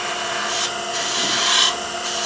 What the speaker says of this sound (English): Now we're going to go to a Thompson detail gouge.